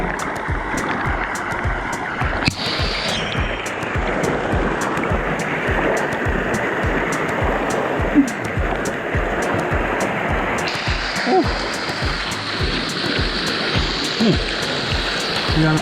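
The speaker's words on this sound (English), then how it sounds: "Here's a waterfall" Waterfall and flowing river water in a remote canyon in Puerto Rico, a steady broadband rush that stays loud and continuous throughout, with splashing bursts near the start and faint voices underneath.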